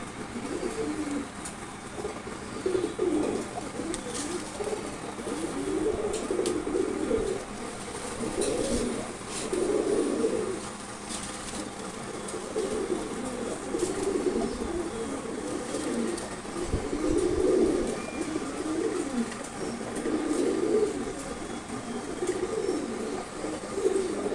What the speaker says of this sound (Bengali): খুবই চঞ্চল কবুতর এটা